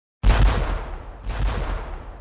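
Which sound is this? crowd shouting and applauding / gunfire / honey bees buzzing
gunfire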